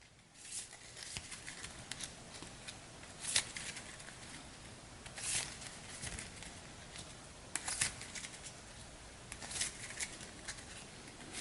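A deck of cards is shuffled during a Hero Realms card game, with soft, quiet riffling bursts repeating irregularly over several seconds and no voices.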